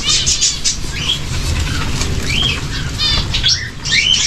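Young bulbul chicks calling from a garden aviary with repeated high, wavering squeaks and chirps, fairly close and loud over steady background noise.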